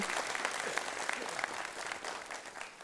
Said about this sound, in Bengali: ডক্টর এম এ মতিন স্যারকে করতালির মাধ্যমে স্বাগত জানাচ্ছি